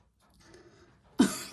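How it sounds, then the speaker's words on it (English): A woman coughs and splutters once, a sudden loud throaty burst right at the end after near silence, close to the microphone. "I do apologise for my coughing and spluttering."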